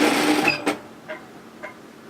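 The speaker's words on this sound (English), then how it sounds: "I'm going to stitch that all the way to the end, because I did that on the other side, and back tack it a little bit." A sewing machine stitches fabric for a beach wrap coverup, giving a short whirring burst that stops, followed by a couple of faint clicks.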